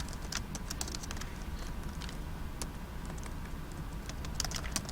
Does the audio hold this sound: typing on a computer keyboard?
yes